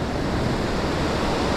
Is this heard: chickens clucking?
no